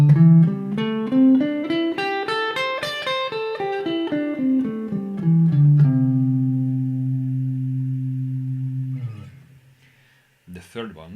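Electric guitar playing the C shape position of the pentatonic scale, single notes stepping up then back down in an even rhythm before a long sustained final note that rings out alone.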